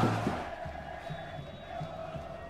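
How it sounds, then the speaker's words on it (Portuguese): Juventude supporters chanting as a stadium crowd in a football video game, a steady, far-off mass of voices with rhythmic swells in a match atmosphere. "Uma torcida do Juventude aí."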